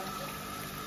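Water poured steadily into a cooking pot of rice for mutton biryani, a continuous close pouring rush filling the short moment.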